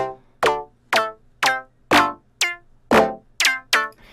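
Nine short synth plucks from Serum in an even rhythm, each starting bright and falling quickly in pitch from a pitch envelope on oscillator B, with a low steady hum beneath.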